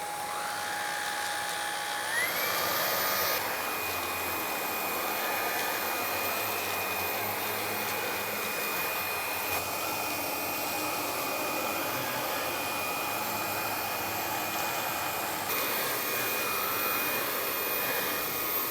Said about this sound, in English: Let's see how the pet tool does with the flexible hose extension, with the rotating brushes.